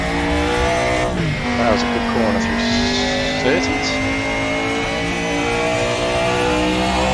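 A DTM 92 race car engine in the Raceroom sim revs hard through a corner, pitch climbing and dropping through gear changes under a steady loud drone, while someone talks briefly over it.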